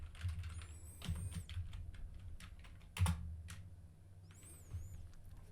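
Someone types data on a computer keyboard, producing soft, close, irregular key clicks in quick runs, with a couple of heavier keystrokes.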